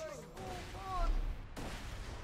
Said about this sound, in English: sounds like my grenade's still going off